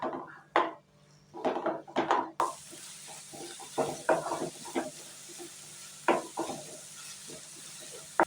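Finely chopped medium onions frying in a pan for okra masala: a spoon scrapes and clatters in repeated strokes over a soft, steady sizzle.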